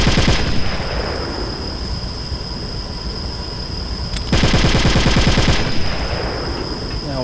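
Rapid automatic gunfire in Metal Gear Solid: The Twin Snakes, loud sustained bursts of rattling shots with a brief lull before a second heavy burst, and game ambience between them.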